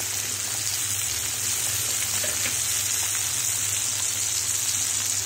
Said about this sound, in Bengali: এখানে আমি দিয়ে দিচ্ছি 1 চামচ আদা বাটা, 1 চামচ রসুন বাটা,